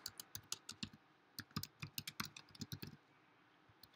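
Computer keyboard keys clatter in quick, uneven bursts while a git commit message is typed, with a short pause midway before the rapid clicking resumes.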